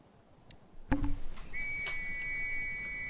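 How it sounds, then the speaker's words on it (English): A referee whistle starts a match in the Battlefield video game, a sharp sustained tone ringing out after a couple of clicks and a thud, then held steadily over low background noise. "And there's the whistle, guys."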